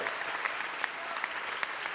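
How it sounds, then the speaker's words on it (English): Audience applause at a Massachusetts state scholarship program event, a steady wash of many hands clapping at moderate volume, with some sharper individual claps standing out, and no talk over it. "Give your university and all your faculty and everybody else a round of applause."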